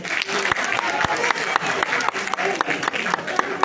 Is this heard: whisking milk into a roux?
no